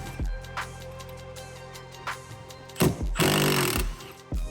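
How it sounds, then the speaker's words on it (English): Power tool bursts while removing the rear seat bolts on a Jeep JL/JT, several short whirring runs spaced across the clip with a longer, louder buzz near the end, close by and without talk. "Taking out the back 2 bolts now that we've moved the seat all the way forward and up."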